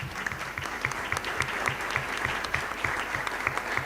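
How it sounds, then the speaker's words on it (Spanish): A church congregation applauds a speaker with dense, steady clapping at moderate distance, with a regular knocking beat under it and no talking. "un aplauso pues para el hermano"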